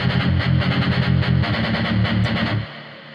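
Heavily distorted industrial metal power chords from KMG7 guitars chug in a tight rhythmic pattern, loud and dense, before cutting off abruptly near the end and leaving a faint decaying tail.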